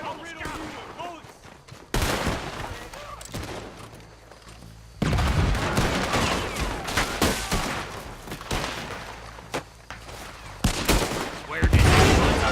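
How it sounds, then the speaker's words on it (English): Rapid gunfire in a Wild West shootout in Red Dead Redemption 2, bursts of shots crackling near and loud with heavy echo, spread across the clip with shouting voices mixed in. "I'll riddle you with bullets!"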